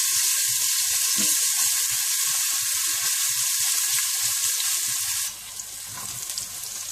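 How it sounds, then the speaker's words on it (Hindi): Steady, close sizzling of crushed garlic frying in hot oil, a dense crackling hiss with scattered pops, easing slightly near the end. "इसमें आप 2 टेबलस्पून कुटा हुआ लहसुन डाल दें और थोड़ा सा भून दें।"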